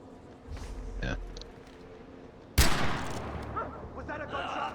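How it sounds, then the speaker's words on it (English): A single sharp gunshot in the Far Cry 4 video game cracks loudly midway, followed by a trailing noisy echo, with quieter thumps and voices talking around it. "Was that a gunshot?"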